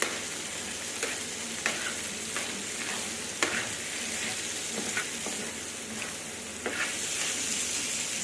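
Colored bell peppers sizzle steadily in a hot pan, with a scrape of stirring now and then against the constant frying hiss.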